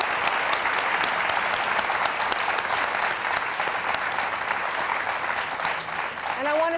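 A large television studio audience applauds steadily throughout, a dense wash of clapping that holds at full strength from start to finish.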